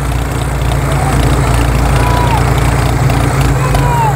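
A Swaraj tractor engine runs at a steady, loud, low throb with a constant rumble throughout, close to the microphone.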